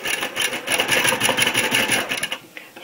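Sewing machine stitching pieced silk fabric for a scarf, running loud and close in a steady whirring burst that slows and stops near the end.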